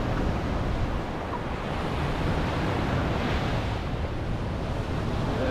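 Ocean surf at Orange Beach, Alabama rolls in a continuous broad wash of breaking waves, loud and steady, mixed with wind buffeting the microphone.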